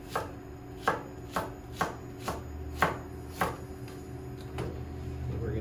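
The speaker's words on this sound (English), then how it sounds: "I've got a little bit of red onion and I'm gonna cut it in julienne." Knife slicing red onion into thin julienne slivers on a cutting board, about eight firm, evenly spaced chops that slow toward the end, close and clear, no voices.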